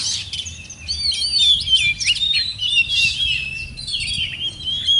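An oriental magpie-robin sings close by in a varied, rapid run of bright chirps, whistles and trills, mixing in imitations of other birds' calls over faint low background hum.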